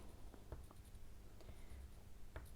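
Wax crayons rub firmly across paper while drawing a bird, making faint, close scratchy strokes in short, uneven bursts against a quiet background.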